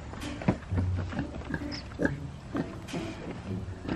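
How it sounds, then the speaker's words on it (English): Pigs on a small backyard farm grunt and oink repeatedly in short, close bursts, with a few higher squeals mixed in and light background noise. "Tilly, do you like the pigs?"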